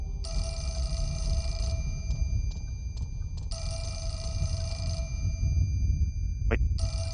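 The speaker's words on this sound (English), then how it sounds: "Got a phone call." Telephone ringing in the horror video game Fatal Frame IV, sounding in long repeated electronic bursts with brief gaps, loud and steady over a low background rumble.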